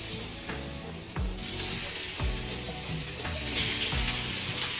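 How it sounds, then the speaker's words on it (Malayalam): Pieces of seer fish fry in hot coconut oil for a biryani, a constant close sizzle broken by occasional utensil knocks and scrapes as the fish is turned. "ഇപ്പോൾ തന്നെ മീൻ വെളിച്ചെണ്ണയ്ക്കകത്ത് പൊരിക്കാൻ പോവാണ്."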